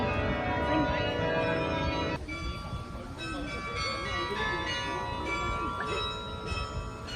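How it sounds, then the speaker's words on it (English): Church bells at Yale University chime in a ringing, sustained sequence of tones that layer and decay; a voice speaks over them for part of the time. "the chimes sounds is also very beautiful"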